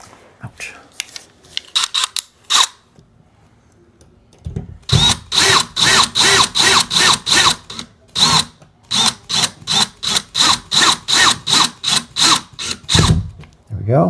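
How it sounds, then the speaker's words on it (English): A power drill drives a screw for a wall TV mount in a series of short, loud bursts, pulsing on and off rhythmically, with a few brief sounds beforehand. "And take my drill."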